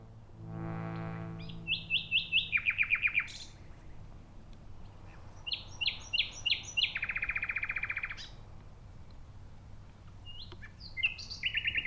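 A nightingale sings alone in three bursts of rapid, repeated whistling phrases and trills, clear and fairly close, with short pauses between each song phrase.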